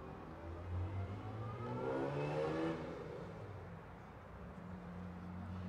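A Jaguar E-Type engine winds up at an outdoor cars-and-coffee meet, revving with a rising then falling whine, moderately distant and fading, with no talk over it.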